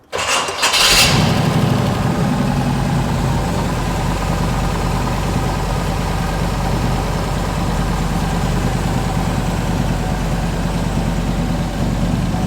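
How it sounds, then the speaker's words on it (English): A 1956 Chevy Bel Air two-door hardtop engine cranks and catches, then settles into a steady, loud, rumbling idle that continues close by without talk. "Start it up. Let's hear it run."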